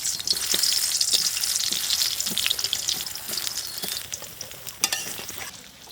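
Eggplant slices frying in hot mustard oil in a wok, a steady loud sizzle with crackles and a few stirring clinks, no talk.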